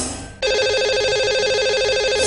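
Electronic telephone ringback tone on an outgoing call to a caller on a TV call-in show, starting after a short quiet lead-in and then a steady loud warbling ring that carries on alone.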